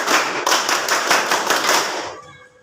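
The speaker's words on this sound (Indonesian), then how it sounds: "Tepuk pramuka." A group in a classroom performing the Indonesian scout clap (tepuk pramuka), a run of sharp, loud, rhythmic claps in quick patterned bursts that stop abruptly and leave a short quiet tail.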